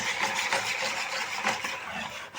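A whisk stirs batter in a bowl as flour is gradually added, with a soft, rhythmic swishing and light scraping, close up and fairly quiet.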